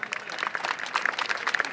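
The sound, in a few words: audience applause at Governor House iftar dinner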